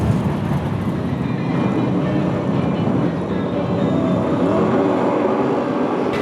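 BriSCA Formula One stock cars rumble on a raceway as they get back underway after a yellow, a loud, dense engine roar with heavy low-end growl holding steady throughout.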